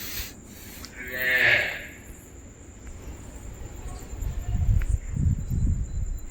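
Cows in a cattle shed at night: one close, loud moo rises early, then soft thumps and shuffling follow while crickets chirp steadily in the background.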